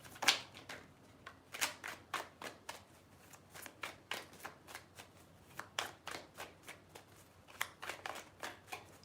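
Tarot cards being shuffled by hand, a long run of crisp riffling snaps and taps in an uneven rhythm, close but fairly quiet, with no talking.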